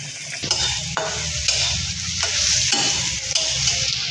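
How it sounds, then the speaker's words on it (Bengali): Beaten egg fries in a hot pan with a steady loud sizzle, while a spatula scrapes and stirs in regular strokes about every half second. "একটি পাত্রে ফেটিয়ে রাখা ডিমটা দিয়ে ভাজা ভাজা করে নিচ্ছি"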